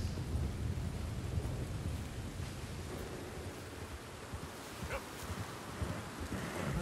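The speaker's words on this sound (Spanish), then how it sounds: "Está lloviendo con ganas." Steady, dense hiss of heavy rain in the video game Red Dead Redemption 2 fills the whole stretch, with a low rumbling wash underneath and a few faint crackles.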